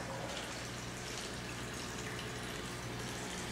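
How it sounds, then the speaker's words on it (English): Running water in a classroom aquaponics system fed through a pool filter, heard as a constant faint trickle and gurgle with no voices. "Really peaceful to have the running water in the background in the classroom."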